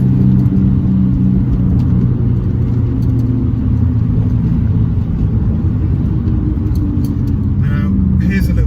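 A car engine fitted with a lightweight crankshaft pulley drones loudly and steadily from inside the cabin while driving, with a deep rumble and faint rising revs throughout.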